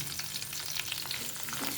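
Green chillies, about twenty of them, fry in a couple of spoons of hot oil for a spicy tomato pachadi, giving a steady close sizzle with faint crackles and no voices.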